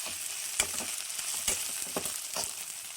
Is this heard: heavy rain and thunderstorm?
no